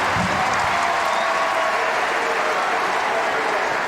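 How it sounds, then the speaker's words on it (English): Loud home crowd cheering and applauding at a men's college basketball championship game in Milwaukee, a dense continuous roar with a commentator's voice under it. "loud home crowd here in Milwaukee"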